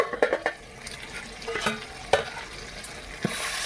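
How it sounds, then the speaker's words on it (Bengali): Chicken chaap frying in a pan is stirred, giving close spoon scrapes and clinks over a steady sizzle, with several sharp knocks spread through the few seconds. "আবারও নেড়ে চেড়ে দিচ্ছি"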